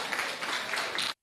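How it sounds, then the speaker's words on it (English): Brief, dense applause from a community townhall audience on education, a steady hiss of many hands clapping that cuts off abruptly after about a second. "Round of applause."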